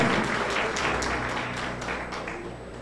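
Congregation applauding during a church service, a dense, steady wash of clapping with sharper individual claps popping through, fairly close and loud throughout.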